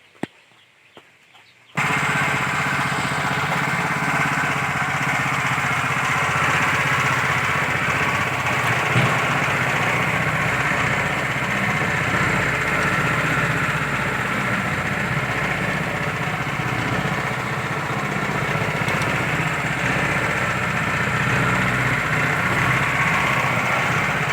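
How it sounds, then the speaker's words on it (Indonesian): An engine-driven mixing drum churns chicken feed, a steady loud droning engine with rattling mechanical noise running continuously for over twenty seconds after a brief quiet start. "Ini mesin penggeraknya, ini adalah molennya untuk pengoplosan."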